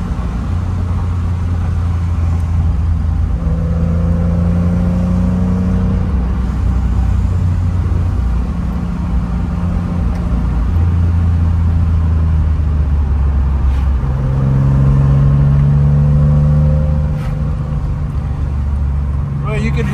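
A 1979 Porsche 911 SC Targa engine drones steadily from inside the car on a mountain road, its pitch rising and falling through the gears, loud and continuous, with voices talking over it.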